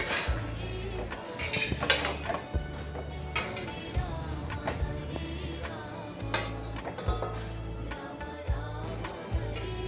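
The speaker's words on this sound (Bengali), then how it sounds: "আর এটা আমি ঢাকা দিয়ে দিব কিছুক্ষণের জন্য, নেড়ে দিয়ে" A lid clanking onto a cooking pot and a spoon stirring mixed vegetables, frequent metallic clinks and scrapes over a low steady hum, close and moderately loud.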